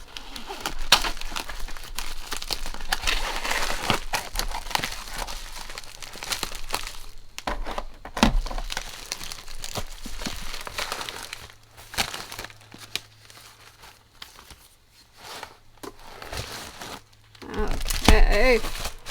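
Altenew cardstock packaging, with bubble wrap and floral-printed wrapping, crinkles and rustles as it is unwrapped by hand, up close and fairly loud in irregular bursts separated by short quiet gaps.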